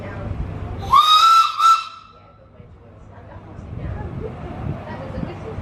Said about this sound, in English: That was a whistle sound, going.